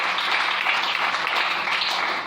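A church congregation applauds and cheers for the Lord, a dense, steady wash of clapping and voices that stays loud throughout with no speech standing out.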